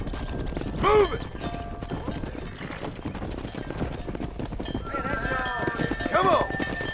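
Steady clip-clop of horse hooves during cattle herding in the Red Dead Redemption video game, running continuously under shouted voices, with a horse whinnying near the start and again toward the end.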